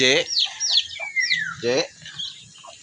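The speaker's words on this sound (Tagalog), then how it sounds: "Bumili naman tayo ng panibagong mga manok." Chickens cluck and squawk nearby in short, uneven bursts, with a rising call among them and a brief quiet gap near the end.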